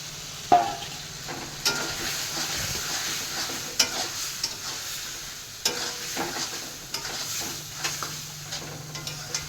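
Raw prawns frying in a tomato and capsicum paste, a soft continuous sizzle broken by repeated spatula scrapes and knocks against the pan; close but fairly quiet, with no talking.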